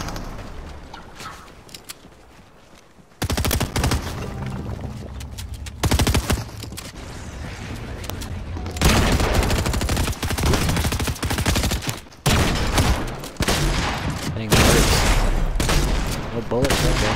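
Video game gunfight with rapid bursts of gunfire, loud and close, repeating in several volleys separated by brief pauses, with occasional talk.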